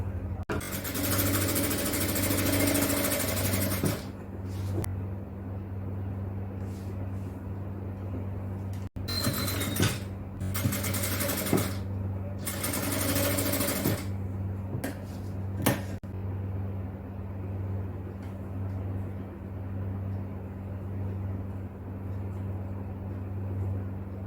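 A sewing machine stitching a designer inskirt runs in a few separate bursts of rapid whirring, with quiet pauses between them and a steady low hum throughout.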